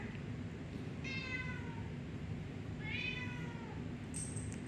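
A cat meowing indoors during a home workout, two drawn-out meows a couple of seconds apart over a steady background hum, moderately close and clear.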